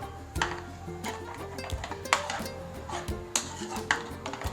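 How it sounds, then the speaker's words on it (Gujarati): A spoon stirs tomato pulp mixed with Eno in a bowl, giving light, irregular clinks and taps against the container over a faint background hum. "હવે સમસી વડે આપણે મિક્સ કરી દઈશું"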